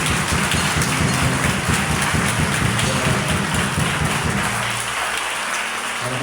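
A church congregation at a Sunday worship service applauds in a dense, steady wash of clapping that eases slightly toward the end, with a low hum underneath.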